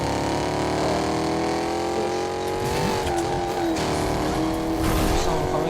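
A car driving in the Fortnite video game, its engine a steady, continuous drone that rises in pitch as it revs, with brief skidding and tire-squeal accents toward the end, loud and alone.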